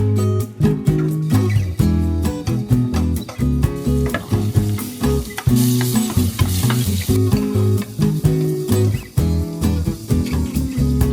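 Food frying in olive oil in a home kitchen, with loud continuous sizzling and crackling broken by repeated stirring scrapes and clinks of a utensil against the pan, no talking.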